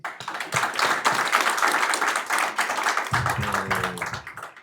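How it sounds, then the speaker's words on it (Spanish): Applause from an audience at a business event, a steady wash of many hands clapping that fills the whole stretch, with a low hum entering near the end. "Y un aplauso para ti."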